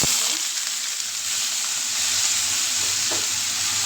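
Vegetables hiss and sizzle steadily in a frying pan in a home kitchen on a cold winter night, a loud, close, even frying noise with a faint stir near the end.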